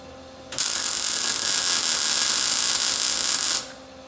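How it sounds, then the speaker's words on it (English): Tack welding two lined-up metal pieces, a steady loud buzzing hiss that starts abruptly, holds for about three seconds and cuts off. "right now I'm going to make my first tack welds"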